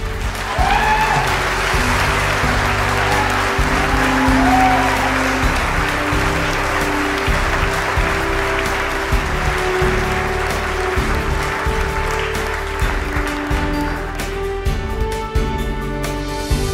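Audience applause after a recited piece, sustained clapping from a sizeable crowd at steady volume that thins slightly toward the end, with faint cheers early on.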